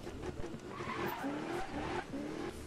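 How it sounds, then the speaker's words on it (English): A car drifting in the Need For Speed video game, with wavering tire squeal over a revving engine during a drift session at a car meet, loud and continuous across the clip. "let's go drifting then"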